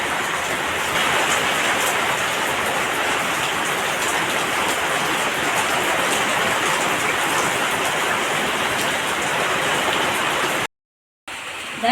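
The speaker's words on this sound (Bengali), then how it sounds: "এখন খুব বৃষ্টি আমার পিছন দিয়ে সব ভিজে গেল" Heavy rain pours down in a dense, unbroken hiss close by, steady and loud for most of the span before cutting out abruptly near the end.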